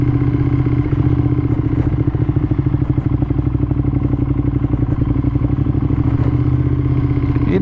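A 2015 Ducati Monster 1200S, modified and fitted with Ducati Performance wheels, rumbles steadily during a test ride in touring mode, a close, loud, continuous engine drone with a fast pulsing beat and light mechanical clatter.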